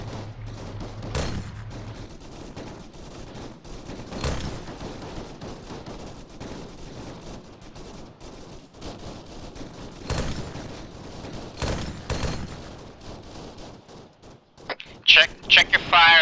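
Gunfire in the Arma military video game during an IED alert patrol: scattered sharp shots and short bursts, some near and loud, others distant, spread across the stretch, with a louder cluster of rapid shots at the end.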